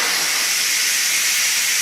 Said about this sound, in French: c'est pour ça qu'on prend un instrument pour enlever la vapeur.